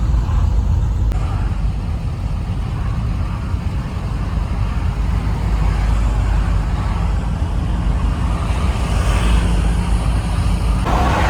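Steady car traffic rolls toward the Fatih Sultan Mehmet Bridge in Istanbul, a continuous loud roadway roar of engines and tires heard from inside a moving vehicle, with no voices.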